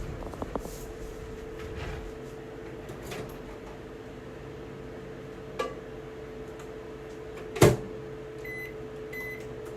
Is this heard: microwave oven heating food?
yes